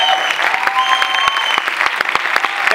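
A theatre audience at a musical premiere applauds loudly and continuously, dense close clapping from many hands with a few sharp individual claps standing out.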